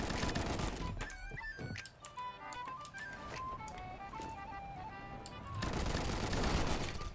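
A Saiga-12 shotgun fires in rapid, loud bursts in the video game Combat Master. Other weapon blasts and clanking game effects mix in, and a dense barrage of shots returns near the end.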